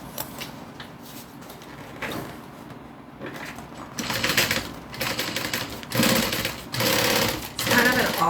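A sewing machine runs a top stitch on a dome-topped piece, starting with quieter handling and then breaking into loud, rapid mechanical chattering bursts that stop and restart several times.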